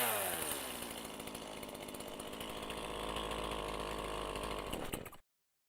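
A chainsaw engine runs at a steady, loud, buzzing idle, close by and alone for about five seconds, then cuts off abruptly into silence.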